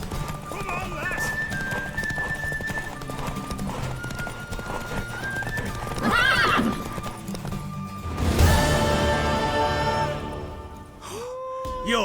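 Hooves clip-clop steadily under a stretch of talk in The Witcher 3: Wild Hunt, and a horse whinnies loudly near the middle before the talking resumes.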